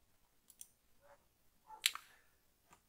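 A few scattered, quiet clicks come from typing on a computer keyboard, with one brief cluster of sharper taps near the middle and long gaps between keystrokes.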